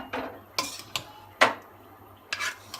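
Cooked zarda, a sweet rice dish, is mixed in a pot with a spoon: several distinct scraping clinks and knocks against the metal at irregular intervals, close up, with quiet pauses between strokes and no talking.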